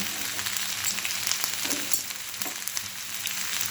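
Eggplant slices fry in hot oil while being turned over, a steady close sizzle and crackle with soft spatula scrapes, continuous and fairly loud, no talking.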